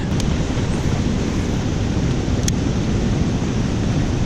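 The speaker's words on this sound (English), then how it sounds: "Might take a few little waves over the front here." Small river waves splash over the bow of a kayak in a steady rushing wash, close and loud, with wind buffeting the microphone.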